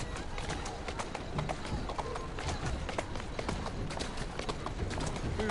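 Horse hooves clip-clop steadily in Assassin's Creed Syndicate, a continuous rapid trotting rhythm heard up close and fairly loud through the whole stretch.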